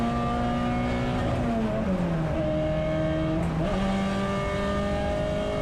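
Onboard a Peugeot 206 GTi 180 race car at Donington Park, the engine drones loud and close, its pitch sagging and stumbling after a missed gear before climbing again, with no talk over it.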